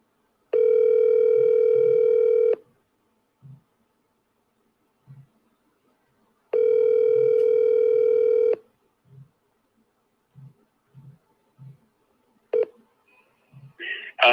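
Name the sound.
phone ringing on an outgoing call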